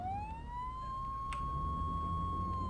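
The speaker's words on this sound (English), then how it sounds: "Did you not hear and see my sirens?" A fire truck siren in the Flashing Lights video game winds up into a steady high wail, with faint engine rumble beneath it. There is no talking.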